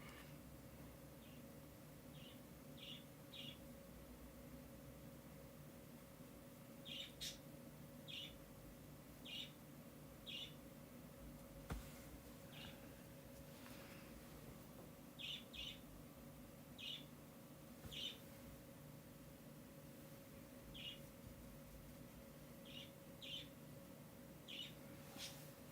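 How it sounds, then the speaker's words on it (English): A pet bird chirps in the background of a quiet room, giving short bright repeated calls in small clusters spread over the stretch, faint and fairly distant against a low steady hum. "For anyone that can hear my bird in the background."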